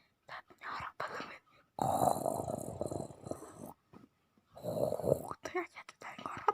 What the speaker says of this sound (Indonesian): Ternyata sudah ngorok teman-teman.